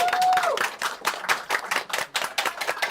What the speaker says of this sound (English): Sorry if that was too loud, everybody online. We did not account for the applause.